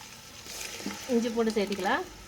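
Coriander and mint leaves sauté in a pan for biryani, giving a steady, moderate sizzle and stir with a voice talking over it.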